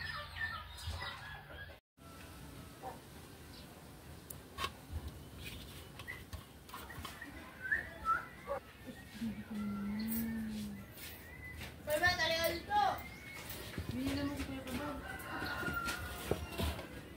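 A pet turkey calls with a few short, nasal gobbling and clucking bursts, fairly near, among background noise and occasional voices.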